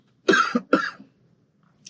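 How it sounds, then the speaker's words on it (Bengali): Two quick, loud coughs in succession from a person still recovering from illness, close and dry, followed by near silence. "কাশিটা এখনো রয়ে গেছে"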